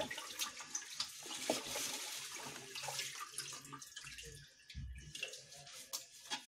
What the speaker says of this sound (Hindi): बाकी पानी को भी मग की सहायता से बाहर निकालेंगे। हमें सारा गंदा पानी बाहर निकालना है।